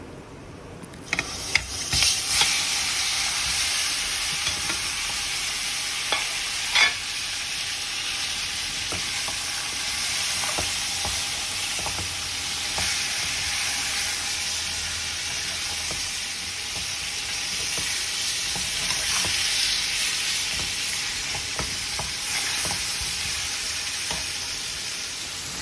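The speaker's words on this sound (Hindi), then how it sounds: "मिक्स करने के बाद चिकन इसमें डालेंगे और इसको फ्राई करेंगे।" Chicken frying over high heat in a pan, a steady loud sizzle and hiss that runs throughout, with scraping stirs and a few clacks of the utensil near the start.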